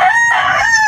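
A rooster crows once at close range, a loud harmonic call under a second long, from among farmyard chickens with a laying hen nearby.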